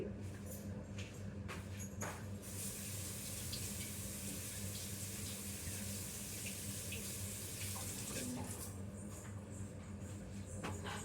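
Tap water runs steadily into a sink while onions are washed for homemade egg puffs, a continuous broadband rush that stays fairly even throughout without any talk.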